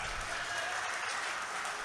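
Dense, steady applause from an audience at an international mushaira poetry gathering, filling the whole stretch at an even level with no voices over it.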